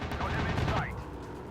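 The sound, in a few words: aircraft gunfire in video game Warplanes: WW2 Dogfight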